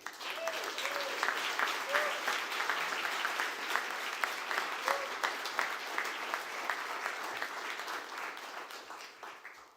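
Sustained applause from an audience at an awards reception honouring staff, a steady wash of many hands clapping that holds evenly and tapers at the end, with a few louder claps standing out.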